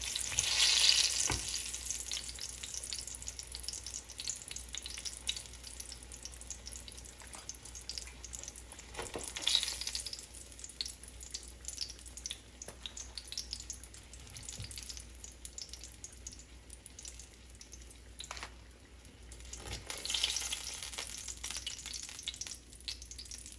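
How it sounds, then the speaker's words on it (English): Green tomatoes frying in a pan as an appetizer, a steady close sizzle with occasional stirring clatter and bursts of louder crackle throughout. "it's time for these fried green tomatoes to come out."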